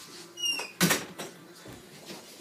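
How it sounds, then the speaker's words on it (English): An indoor door at home is pushed shut, with a single solid thud followed by faint handling noise and a small click, close by in a quiet room. "I'm just gonna close the door"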